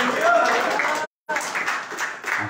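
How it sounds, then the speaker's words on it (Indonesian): Church congregation clapping and cheering loudly during a sermon, broad dense applause that cuts out abruptly for a brief silence and then resumes just as strongly. "Tepuk tangan yang meriah."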